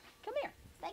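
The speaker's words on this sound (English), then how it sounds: "So she's a rat terrier mix." A rat terrier mix dog lets out a short, high whimpering whine up close, rising and falling briefly, then a second quick whine moments later, indoors at an animal shelter.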